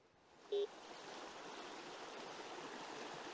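A Montana mountain stream runs through forest in a steady broadband rush of water, constant and fairly close, broken once by a short electronic beep near the start.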